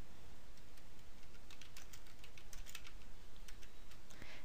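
Template name typed on a computer keyboard, a quick run of light, close key taps over steady background hiss, with no voices.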